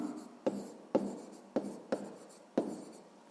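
Pen strokes scratch across paper while a math proportion is written out, with about five distinct sharp taps followed by short scratchy drags in a steady, close rhythm.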